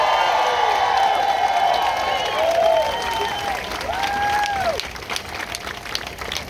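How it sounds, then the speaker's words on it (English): A rally crowd at a reproductive rights march in Boulder cheers and applauds loudly, with scattered whoops and shouts rising over dense clapping that eases slightly toward the end. "Can we just give them one more cheer?"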